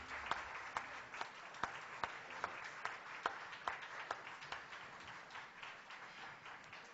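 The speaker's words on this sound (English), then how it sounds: "Let's give both the candidates a round of applause." An audience at a Bastrop, Louisiana city judge candidates' forum claps steadily, a moderate scattering of hands heard from a short distance, with no voices over it.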